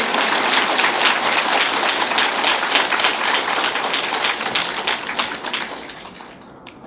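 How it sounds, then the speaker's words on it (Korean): A Catholic retreat audience claps together in a loud, brisk burst that gradually thins out, with scattered final claps as the room quiets. "박수 한번 치세요."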